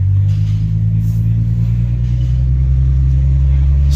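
A Pontiac Solstice sports car with an automatic transmission idles steadily, its deep low engine rumble holding constant and loud throughout with no revving.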